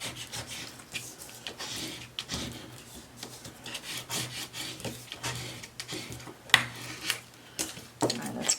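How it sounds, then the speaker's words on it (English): Steady rubbing and scraping on vinyl cut by a Brother ScanNCut as it is pressed down for applying, close and moderately quiet, in irregular strokes with a faint background hum. "And just go ahead and give it a good rub. Also rub it from the back side as well."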